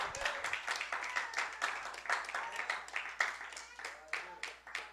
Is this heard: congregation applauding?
yes